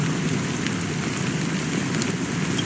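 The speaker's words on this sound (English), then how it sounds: "how long has this rain been going on for?" Steady rain pours down in a constant, even hiss of drops on surfaces, with no voices over it.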